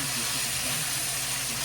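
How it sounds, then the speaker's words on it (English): Shrimp dropped into the middle of a hot pan for a stir-fried rice with vegetables, sautéing with a continuous, close, even sizzling hiss throughout. "I'm going to drop those shrimp right in the middle of my pan and let them go ahead and saute"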